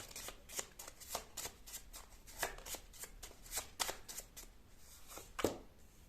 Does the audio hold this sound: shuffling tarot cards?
yes